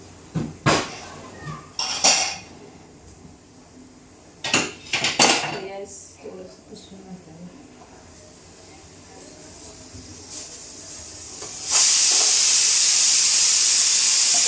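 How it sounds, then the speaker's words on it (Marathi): Dishes are washed at home: sharp clinks and clatters of steel utensils and cutlery knock together in scattered bursts. Near the end a loud, continuous gush of running tap water takes over. "जी भांडी घासायची राहिली"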